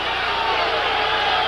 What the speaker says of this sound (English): The crowd not liking that.